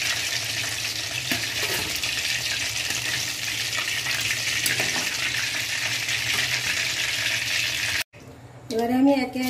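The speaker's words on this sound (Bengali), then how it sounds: "এবারে আমি একে একে সবগুলো ভেজে নেব।" Chicken pakora frying in hot oil makes a dense, even bubbling sizzle for several seconds; it cuts off abruptly and a voice speaks briefly at the end.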